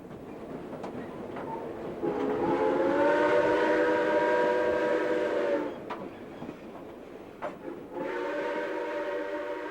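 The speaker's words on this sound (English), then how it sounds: "The whistle of the Hudson can be a truly haunting sound, heard miles around on a clear day" Royal Hudson steam locomotive whistle on a coastal excursion line near Garibaldi Provincial Park, a long harmonic blast followed by two shorter ones over rumbling train noise, fairly distant.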